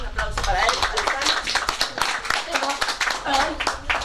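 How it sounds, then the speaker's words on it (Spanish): An audience claps for Alejandro at the presentation of the book "Testimonios Ferroviarios". The applause is close and moderately loud, with voices talking over and between the claps. "Un aplauso para él"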